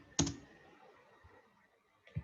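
A computer mouse clicks sharply once up close in a quiet room, followed by a faint second click near the end.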